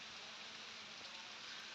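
Rain falls steadily in Punjab, Pakistan, as a faint, even hiss of drops with no break or change in intensity.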